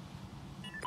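A bomb is planted in a shooter video game, with a brief run of electronic keypad beeps that ends in a couple of clear tones over a low background hum.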